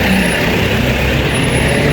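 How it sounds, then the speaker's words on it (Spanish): A garbage truck passes on a street nearby: a loud, continuous engine rumble with a brief hiss of air brakes near the start, and no talk. "Es el carro de la basura."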